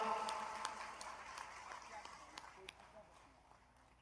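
A poetry gathering audience greets a young guest with applause, faint scattered claps under a talking voice, tapering off as the clip goes on.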